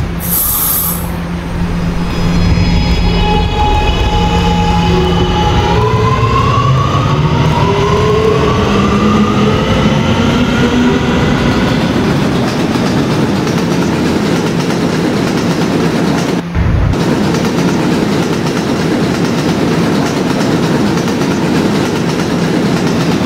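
An R subway train in Roblox running along the line: loud steady rumble with rising and falling motor whine, clicking rail joints and a brief sharp thud near the end, no voices.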